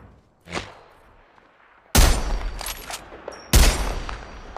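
Gunfire in a video game: a faint early crack, then two loud sharp bursts of rapid shots about a second and a half apart, each ringing out in a noisy tail.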